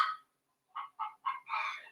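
Several chickens cluck in short, close bursts, a brief call followed by a pause and then four quick clucks in a row, with no voices over them.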